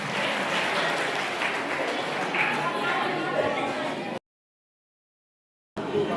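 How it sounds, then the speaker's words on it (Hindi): Audience applause greeting a speaker at a Birsa Munda Jayanti gathering, steady clapping from a crowd for about four seconds, then silence before a short burst resumes at the end. "उनका जोरदार तालियों से स्वागत सरावगी जी का।"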